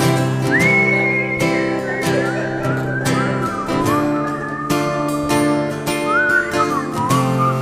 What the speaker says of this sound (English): You could whistle into your elbow,